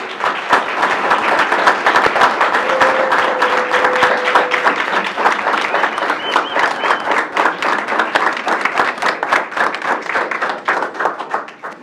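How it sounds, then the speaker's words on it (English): Audience applauding a group of honorees at a ceremony, a loud, sustained burst of many hands clapping close by that carries on for several seconds before tapering off. "And let's give them all one last round of applause."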